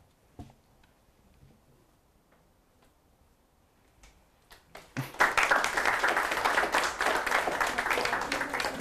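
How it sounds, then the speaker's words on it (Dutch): After a quiet stretch with a few scattered taps, applause from an audience following a presentation erupts about halfway through and continues as loud, dense, sustained clapping to the end. "Ja, een welverdiend applaus."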